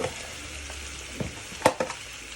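Garlicky curried prawns frying in a pan, a low continuous sizzle with a few sharp scrapes and clinks of a utensil near the end, no voices.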